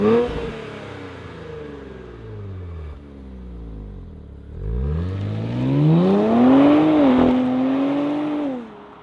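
A 2025 Nissan Z Sport with modifications starts up and revs, the engine settling to idle before climbing through two loud, rising revs and falling back, close and with no talk.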